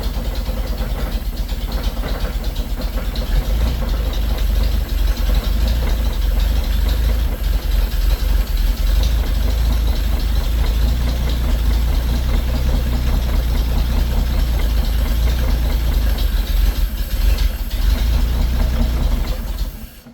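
A 1934 Chevy four-door sport sedan engine, freshly revived after 23 years without running, idles loud and close with a rough, steady low rumble and some knocking throughout.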